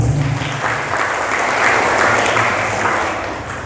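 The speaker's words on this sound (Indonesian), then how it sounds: "Oke, tepuk tangan untuk pertanyaannya." Audience at a Muslim study gathering on ablution applauds a question with steady, dense clapping that swells slightly and then tapers, close and alone with no talk over it.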